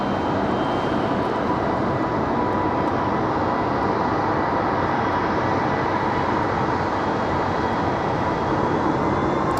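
An American Airlines A319 arriving from Philadelphia at Raleigh-Durham airport gives off a steady broadband jet roar, loud and unbroken for the whole stretch, with no voices.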